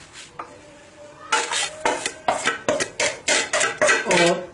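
Gol gappe filling being mixed with spices in a bowl: about nine close, rhythmic scraping and clinking strokes, starting after a quieter moment, with no talking.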